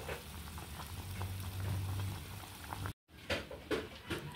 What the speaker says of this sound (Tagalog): kumukulo na po yung ating karne ng pabo